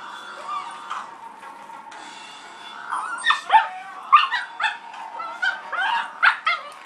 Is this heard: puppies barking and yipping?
yes